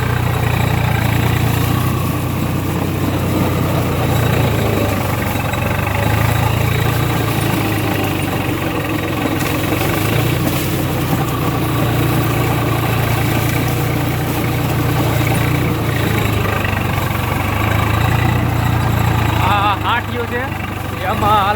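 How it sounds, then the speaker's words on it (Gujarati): A tractor engine in the video game Farming Simulator runs steadily with a loud, continuous low rumble that stays constant throughout. "આપણું ટ્રેક્ટર હાલે છે"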